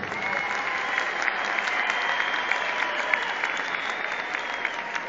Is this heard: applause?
yes